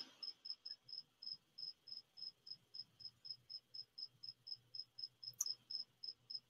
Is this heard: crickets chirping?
yes